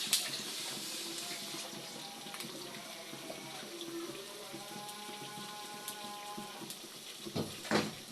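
Boiled rice water being drained in a home kitchen: a steady rush of running, splashing water pours continuously at close range, with a few louder clatters near the end.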